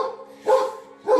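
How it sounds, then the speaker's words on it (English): A dog barks twice, loud and close, with a short pause between the two barks. "she's a freaking dog"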